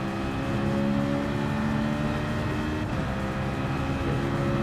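In Gran Turismo 7, a race car engine drones steadily at high revs, with a dense, even motor tone and slight pitch shifts from throttle changes. It plays continuously at moderate volume with no speech.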